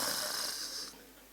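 A voice imitates snoring with a loud, raspy rattling inhale that stops abruptly, leaving quiet room noise.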